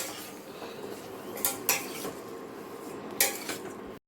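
Spice paste being fried down and stirred in a pan, with a few sharp clinks and scrapes of a metal utensil against the pan over a low, steady background.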